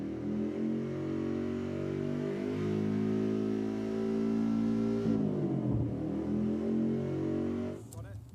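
A rally car engine revs hard and holds high, strained and loud up close, then drops away and falls quiet near the end, while someone talks over it.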